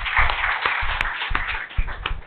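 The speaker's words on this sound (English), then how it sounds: "I would like to start with a round of applause for every one of y'all sitting" A seated audience gives a round of applause, steady dense clapping from many hands with a few sharper nearby claps standing out.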